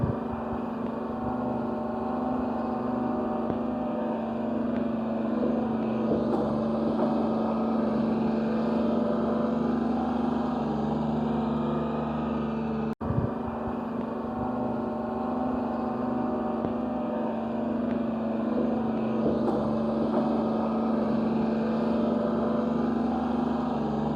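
An old, beat-up Galion motor grader works a field, its engine holding a steady loud drone throughout with a brief knock partway through.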